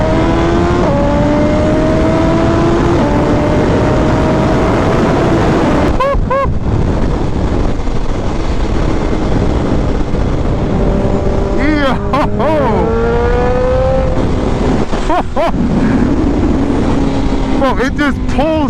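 Suzuki Hayabusa motorcycle engine revving loudly on the road, rising through the gears with sharp pitch climbs and brief drops at each shift, continuous and close, with wind rush and a rider talking over it.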